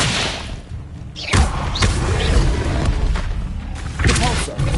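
The Expelliarmus spell fires in Hogwarts Legacy on PS5 as a few heavy thuds and booming bursts over busy game noise, with a voice shouting during the clip.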